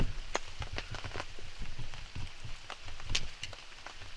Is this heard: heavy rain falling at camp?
yes